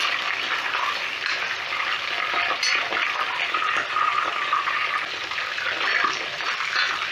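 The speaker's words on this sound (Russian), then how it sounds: "Пару минут обжариваем и добавляем основное мясо." Meat sizzles steadily in hot oil in a kazan for Uzbek plov, a dense, even crackle and hiss that holds at close range without pause.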